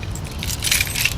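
A teacher's everyday-carry key ring loaded with many keys and attachments jangles continuously, a bright close metallic rattle with several clinking peaks, heard alone without talk.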